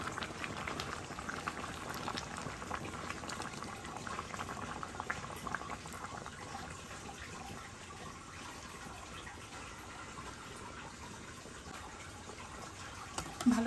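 Canned coconut milk poured into a pot of Bengali shukto bubbles and simmers with a steady liquid burble at close range, easing slightly in the second half.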